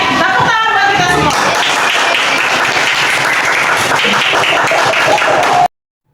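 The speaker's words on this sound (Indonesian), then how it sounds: "Oke, tepuk tangan buat kita semua." Applause from a school audience of teachers and students, a dense steady wash of many hands clapping at full volume for about five and a half seconds before cutting off abruptly.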